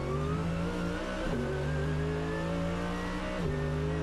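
DTM race car at the Norisring circuit during free practice, its engine loud and continuous with a rising, high-revving note, two sharp gear-change drops breaking the climb, no voices over it.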